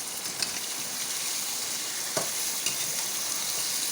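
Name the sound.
chicken frying with onion and ginger garlic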